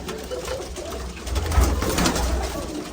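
Teddy and Chapda breed pigeons cooing close by, soft low repeated coos over a light background murmur, with no voices.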